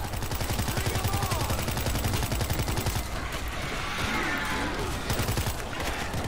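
Rapid, sustained machine-gun fire from the zombie shooter World War Z, rattling continuously and loudly for the whole stretch, with dense overlapping shots that ease slightly partway through before staying heavy.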